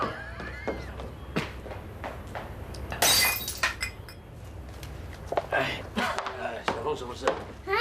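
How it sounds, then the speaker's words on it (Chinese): A drinking glass crashes and shatters in a drama scene, a sudden bright burst followed by clinking shards and cutlery-like rattles, with people talking around it. "爷爷杯子打破了"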